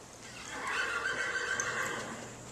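A horse in the middle of a big city lets out a loud, sustained neigh that lasts a couple of seconds, rising and wavering, close by over faint background hum.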